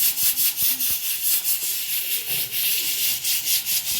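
Beef curry with ground black pepper is stirred in a pan, a loud steady scraping and rubbing that repeats in quick regular strokes throughout.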